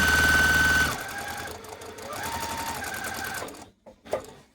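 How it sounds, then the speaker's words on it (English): A sewing machine stitches a flying goose quilt block rapidly and loudly for about a second, then stops, leaving quieter background sounds. "we're going to go sew along that"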